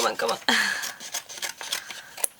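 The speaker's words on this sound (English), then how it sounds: "with the big scissors I'm gonna try and cut it nice" A sharp snip of big scissors cuts through paper, followed by lighter crinkling and handling sounds at close range.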